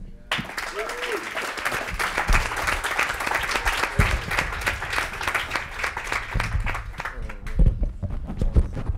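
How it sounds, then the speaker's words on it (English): Audience at a Paris design meetup applauds steadily for several seconds, a dense, continuous round of clapping from a crowd in a room, with faint murmurs mixed in. "big round of applause for him"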